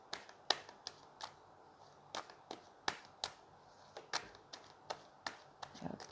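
Tarot cards being shuffled by hand, giving a series of sharp, crisp slaps and snaps spaced about half a second apart, close and fairly quiet, with no talking.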